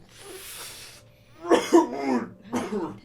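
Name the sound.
cough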